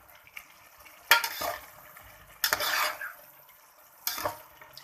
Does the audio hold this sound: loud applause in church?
no